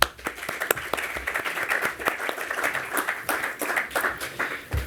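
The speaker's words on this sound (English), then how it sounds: "Gentlemen, please let's have a round of applause for them." An audience at a business forum panel on the Saudi Nomu market claps for the panelists, a dense patter of many hands that rises and holds steady for several seconds.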